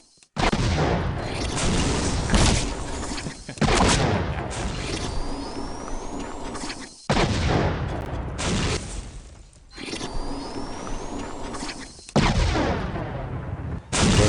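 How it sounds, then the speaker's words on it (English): Rocket launcher fire in the video game Postal 2: loud, dense explosive blasts and booms repeat at a steady pace of roughly every two to three seconds, with short gaps between the roaring bursts. "It's handy that I brought my rocket launcher"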